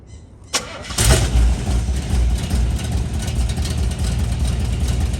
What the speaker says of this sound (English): fire it up, Sergio.